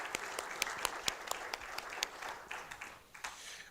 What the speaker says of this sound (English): we'd like to start with a round of applause to you